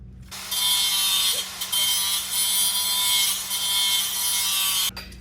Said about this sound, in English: I'm gonna use the cutting wheel and we're gonna cut that off.